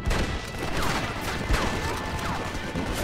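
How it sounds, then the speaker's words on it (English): Machine gun fire in Red Dead Redemption on Xbox 360, a chaotic fusillade of loud shots and ricochets with whizzing bullets amid a busy gunfight. "Oh, they got a machine gun, but we don't."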